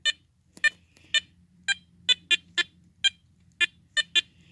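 A metal detector held close gives a series of short, sharp electronic beeps, about a dozen spaced irregularly, in an otherwise quiet setting.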